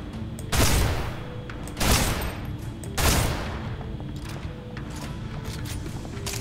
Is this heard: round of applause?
no